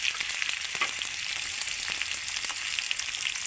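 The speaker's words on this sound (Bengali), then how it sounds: "পেস্টটাকে একটু নাড়াচাড়া দিয়ে 2 মিনিটের মতো ভেজে নেব।" Spice paste made with cumin sizzles in hot oil in a pan and is stirred, a continuous close crackling fry with a few soft scrapes, no voices.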